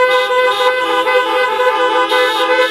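Car horns honking together at an outdoor drive-in cinema, a loud sustained chorus of overlapping tones blaring continuously with a slight swell near the end.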